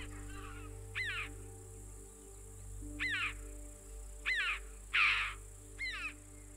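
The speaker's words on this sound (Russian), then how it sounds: "Альпийская галка встречается в горах от границы леса до самых вершин." Alpine choughs in high mountains of Shahdag call in a series of about five short, sharp chirping notes spaced a second or so apart, moderately loud over a steady low hum of background noise.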